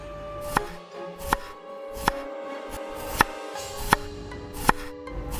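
A knife chopping onion on a board while cooking a chicken curry: about seven crisp, evenly spaced chops, moderately close, with quiet gaps between strokes and no talking.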